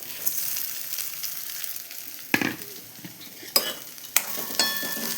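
Poha is stirred with browned onions in a pan, a soft sizzle running underneath while a few sharp scraping spoon strokes cut through at irregular intervals.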